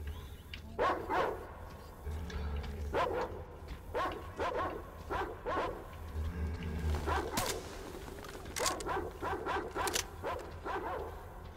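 A caged dog in Metro Exodus barks repeatedly in quick clusters of yips and barks, close and fairly loud, with short pauses between bursts and a low rumble underneath.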